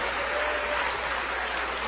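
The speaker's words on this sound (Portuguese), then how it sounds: "vamos dar a melhor salva de palmas para a palavra de Deus" A church congregation breaks into a continuous burst of applause, a thick even wash of many hands clapping with no voices above it.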